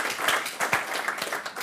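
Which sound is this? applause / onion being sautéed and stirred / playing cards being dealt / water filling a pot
applause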